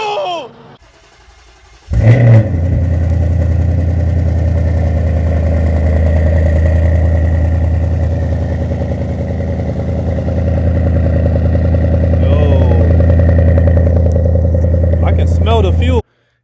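A Ford Mustang fitted with long tube headers cranks and fires, then settles into a loud, steady, rumbling idle that holds close and unbroken for over ten seconds.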